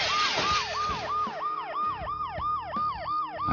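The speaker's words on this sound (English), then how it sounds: "The noise the ambulance makes will cover the sound of the glass breaking." An ambulance siren from the Dead Synchronicity video game wails in a fast, repeating up-and-down cycle, loud and close and heard alone, with a low engine-like rumble underneath.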